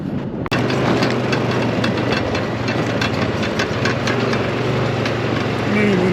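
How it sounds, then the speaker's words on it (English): A tractor engine runs steadily close by, a loud, even diesel rumble with a rhythmic low throb, preceded by a single sharp knock near the start. "Man, that is a nice tractor."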